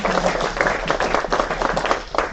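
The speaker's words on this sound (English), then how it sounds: "So round of applause for everyone." A live audience bursts into sustained applause at a university mini-conference closing, dense crowd clapping filling the room steadily for a couple of seconds.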